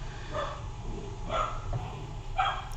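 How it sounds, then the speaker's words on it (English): A puppy barks and yips indoors, three short bursts spaced about a second apart, moderately near but fairly quiet, with no talking over them. "I again apologise for the puppy noises."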